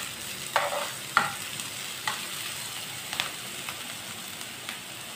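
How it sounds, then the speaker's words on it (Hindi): Finely chopped onion and green chilies fry in a pan over low heat, a soft, even sizzle punctuated by a few crisp taps and scrapes from stirring, close by and without speech. "2 मिनट के लिए पका लेंगे दोनों चीज़ों को।"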